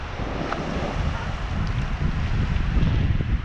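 Strong wind blows across a beach, roaring steadily into the microphone with gusty rumble throughout, a faint voice briefly audible beneath it.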